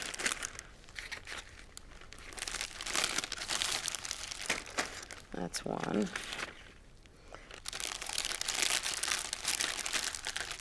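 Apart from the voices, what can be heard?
plastic bag crinkling while meat is put in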